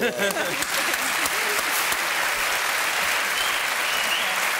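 Studio audience applause on a French TV variety show following a magic trick, a dense steady clapping that fills the whole moment, with a few voices briefly audible at the start.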